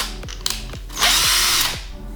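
A Firecore FED-21A cordless drill's chuck mechanism gives a series of evenly spaced ratcheting clicks, close and clear, with a brief whirring burst in the middle.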